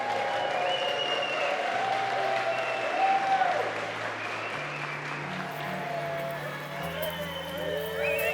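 Wedding guests stand and applaud the newly pronounced husband and wife, a dense and steady wash of clapping and crowd noise with voices mixed through it for the whole stretch.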